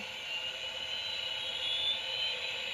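A small assembled FRANZIS model jet engine turbine running steadily, a close, even whine with bright sustained tones over a soft airy rush, no voices.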